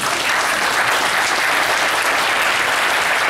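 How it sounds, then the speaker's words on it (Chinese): Steady, loud audience applause from a crowd at a live wealth-building seminar in Taoyuan, filling the whole stretch without letup and with no talking over it. "给我一个掌声鼓励我"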